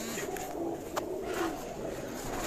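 Faqir Gul pigeons coo softly on a Karachi rooftop, a faint low murmur over quiet background noise, with no talking.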